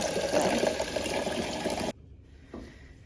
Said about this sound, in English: So I've got all the big feathers soaking in there, and I'm supposed to just swish them around to clean them.